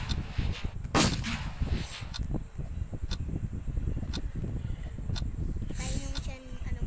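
Gunshots in a video game sound as a few sharp cracks scattered over about seven seconds, mixed with rustling, movement noise and game sounds, with a brief burst of rapid shots near the end.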